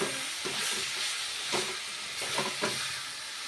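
Taro stolons and shrimp cook in a pan while a spoon stirs them, with scraping strokes over a continuous sizzle; nobody speaks.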